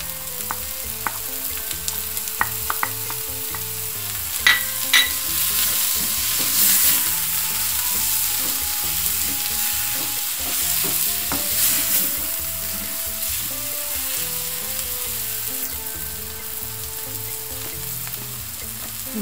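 Chermoula-style herb filling with parsley, coriander and a little olive oil stirred in a hot pan, giving a steady close sizzle broken by scattered scraping clicks of the utensil, with no voices.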